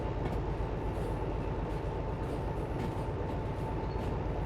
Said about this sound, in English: Are you aware that trains can go backwards, Quintessa?